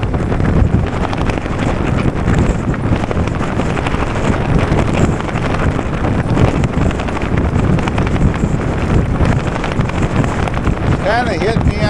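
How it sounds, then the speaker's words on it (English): A coat flaps and snaps in strong wind during an e-bike ride in bad weather, heavy wind roar buffeting the microphone throughout, with a voice talking underneath. "can hear my coat blowing"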